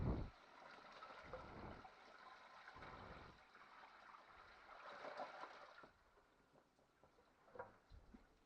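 Liquid is poured over the top of deer leather in a shed, a soft, close splashing and gurgling that swells and fades in several faint bursts, with no talking.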